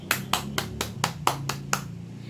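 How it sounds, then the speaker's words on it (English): Seven sharp, evenly spaced hand claps ring out close and alone, slow and deliberate, for the class of 2020 at a graduation ceremony. "I would like to ask the class of 2020 to join me in a thunderous round of applause"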